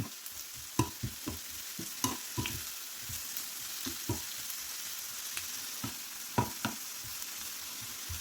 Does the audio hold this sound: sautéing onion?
yes